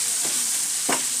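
Chicken meat fries in a pan with a close, steady sizzling hiss and two quick scraping stirs; no one talks.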